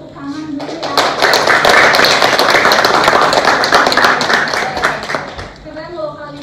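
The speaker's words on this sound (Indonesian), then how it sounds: "boleh tepuk tangan dulu ya" Students in a university classroom break into close, lively clapping that lasts about four seconds, with crisp individual claps over a steady patter. A teacher's voice is heard just before it starts and again as it dies away.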